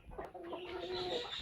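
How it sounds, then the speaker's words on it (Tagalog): Chickens cluck softly inside their backyard coop on a hot day, a brief, faint burst of short, throaty calls with a little rustle behind them. "Dito ako sa kulungan ng aking manok."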